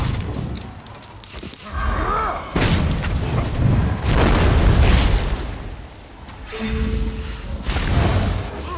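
Sniper rifle fire in a first-person shooter: several heavy booming shots with rumbling tails at irregular intervals, loud and close, mixed with game sound effects.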